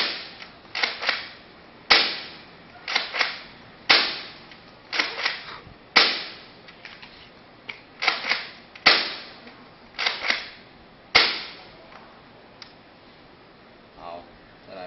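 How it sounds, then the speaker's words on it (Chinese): A Nerf blaster fires original long-range foam darts, giving crisp, close snaps in irregular clusters spread over the span with short pauses between groups. "做那个子弹测试，先五发原始的长程弹。"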